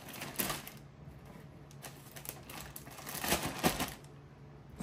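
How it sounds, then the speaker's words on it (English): A knife chops vegetables for rabbits in a series of close, irregular cutting knocks and crunches, some bunched together, with quiet gaps between. "We'll just cut it up like this."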